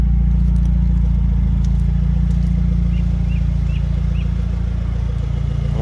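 A 2017 Subaru WRX with 70k miles idles steadily nearby, a low, even engine rumble with a constant hum and no change in revs, with a few faint ticks above it.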